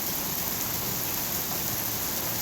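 Heavy rain pours down outside in a dense, steady hiss, loud and unbroken, with no voices.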